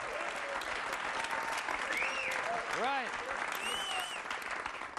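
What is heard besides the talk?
audience applause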